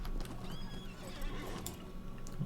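A grey horse in the video game LOTRO neighs, a wavering whinny rising over soft hoof clip-clops, fairly quiet, with a faint thump and ambient game background.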